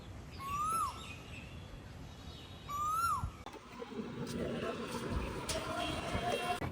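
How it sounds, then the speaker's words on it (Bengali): A koel calls twice outdoors, short rising whistled notes in quick succession, moderately clear over a noisy background; afterward a person speaks and a rustling handling noise takes over. "কোকিল ডাকছে, আপনারা শুনতে পাচ্ছেন কিনা"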